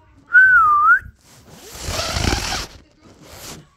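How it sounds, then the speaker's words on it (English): A railway guard's whistle gives one short, shrill blast that rises and dips in pitch, followed by a rustling, rubbing swish and a fainter scrape. "That's the guard whistle."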